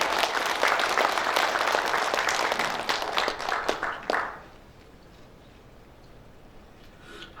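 Loud audience applause at a 17th Journalists' Day ceremony, honoring a former association president, fills the room for about four seconds, then quickly fades to a quiet hall.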